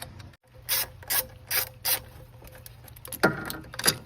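A ratchet clicks in short bursts as thermostat bolts are loosened on a Ford Ranger 2.5L engine, with several quick rhythmic ratcheting runs separated by brief pauses, close and clear, with no talking.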